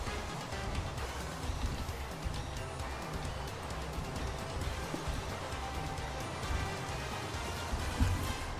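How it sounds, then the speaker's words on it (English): Steady rain pours in a Minecraft world, a dense even hiss of falling drops spread across the whole stretch at moderate level, with no break or change in intensity. "it's raining, so the rain puts out the"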